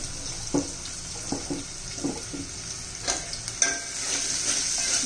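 Chopped onions sautéing in a pan for pav bhaji, a steady close sizzle with scattered scrapes and clacks as a spoon stirs them, no voices.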